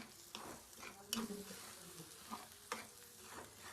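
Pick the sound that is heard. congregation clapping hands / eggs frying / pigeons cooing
eggs frying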